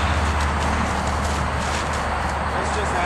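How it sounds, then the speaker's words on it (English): Hooves of a big, unhandled horse that has never had any training clip-clop as it walks. The footfalls sound close and thudding, under heavy background noise and voices. "This is a big unhandled horse, never had any training."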